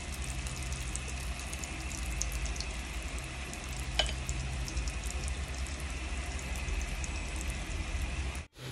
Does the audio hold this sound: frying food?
yes